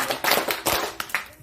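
A school audience claps to thank the teachers, a few sharp, separate hand claps at close range spread unevenly over a brief moment rather than a full, sustained burst of applause.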